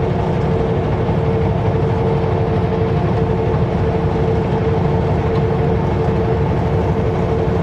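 Steady heavy rumble of a train running along the track near Kamloops, with a constant engine drone and low rolling clatter, continuous and close, with no talking.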